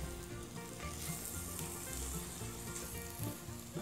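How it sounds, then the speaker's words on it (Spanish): Ground meat frying in a pan with garlic and onion, a steady close sizzle with occasional crackles and light stirring scrapes, no voices. "después de un minuto de freír el ajo y la cebolla, agregamos la carne y la vamos a desbaratar"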